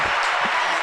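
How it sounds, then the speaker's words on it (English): Audience clapping at a Bronx youth motivation event, a short burst of dense, steady applause filling the room with no voices standing out. "So clap it up for that."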